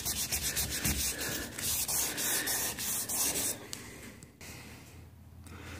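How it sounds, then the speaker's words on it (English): Wet sanding of a plastic car headlight lens by hand gives a close, raspy rubbing scrape in quick short strokes that goes on for a few seconds, then slows and fades into quieter brushing. "all you're doing is just wet sanding it"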